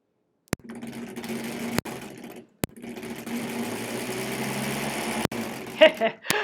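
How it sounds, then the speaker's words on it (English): A 1938 Kenmore model 38 sewing machine runs close by with a steady motor hum, broken by a few sharp clicks and short pauses, and a voice briefly speaks near the end. "I forgot that I'm using this machine. It makes such a different noise than my other one. It's more of a running motor."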